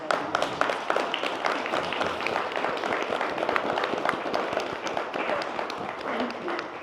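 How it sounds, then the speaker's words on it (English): Audience applause at a panel discussion in an art gallery setting: dense, steady clapping from a sizable crowd, moderately distant, sustained throughout with no talking over it. "So I'm going to pause so you can at least applaud him for just that."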